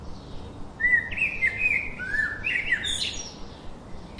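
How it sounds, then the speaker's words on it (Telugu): Lovebirds at a pet station in Kannur, Kerala chirp in bright, overlapping bursts of short warbling calls over steady background hiss, fairly close and moderately loud. "ఈ లవ్ బర్డ్స్ చూడండి"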